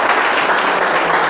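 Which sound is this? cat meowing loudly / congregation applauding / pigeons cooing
congregation applauding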